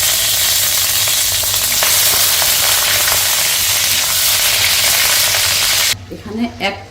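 Butter melts and fries in hot soybean oil in a wok, a loud, dense, steady sizzle that cuts off sharply near the end, followed by a brief voice.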